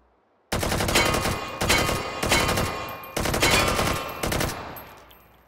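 Gunfire at a firing range in the VR game Hot Dogs, Horseshoes & Hand Grenades: five loud, rapid automatic bursts in quick succession, each ringing off briefly before the next.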